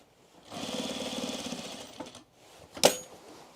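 A sewing machine stitching an overalls leg: one fast, steady mechanical whir of stitching for about a second and a half, then a brief stop and a short sharp clack as it finishes, alone and fairly close.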